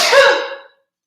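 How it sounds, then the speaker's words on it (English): A single sneeze bursts out close and loud, a short breathy explosion that fades quickly into silence. "Hold on, I have to sneeze."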